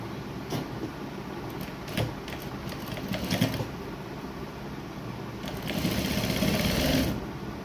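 Sewing machine stitching a border along the edge of a Laddu Gopal doll dress, close mechanical chatter in short runs with light clicks and handling noise, ending in a longer steady burst.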